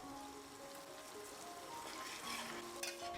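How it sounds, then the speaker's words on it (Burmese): Onions and garlic frying in a pan for a Burmese spicy dried shrimp curry give a steady, soft sizzle that runs unbroken, with a brief louder crackle near the end and no voices. "ကြက်သွန်ဖြူရောအနီရောကိုအယောင်လေးနည်းနည်းလေးရလာတဲ့အထိကိုကြော်ပေးရပါမယ်ရှင်"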